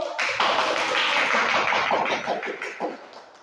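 Classroom audience clapping for a student group after its presentation, a short burst of many hands clapping close by that trails off over a few seconds.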